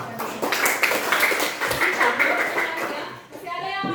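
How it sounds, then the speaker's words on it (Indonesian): Pupils in a classroom clap together in a dense burst lasting several seconds, fairly loud and close, with children's voices mixed in and speech following at the end. "Tepuk tangan sekali."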